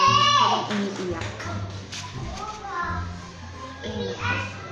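Children shouting and crying in the background at moderate distance, their cries rising and falling beneath a nearby voice talking steadily.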